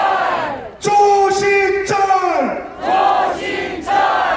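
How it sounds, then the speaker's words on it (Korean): Crowd at an outdoor patriotic Taegukgi flag rally in Seoul's Daehanmun square roaring and chanting in loud, rhythmic bursts, voices massed together and close, with brief dips between surges. "다시 한번 큰 환호 부탁드립니다"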